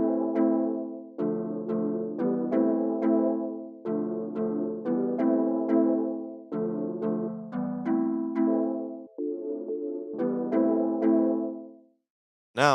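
Two layered synth pads in a dancehall-style beat playing sustained chords together, a rhythmic sequence of swelling chord stabs repeating over several bars, clean and alone with no voices.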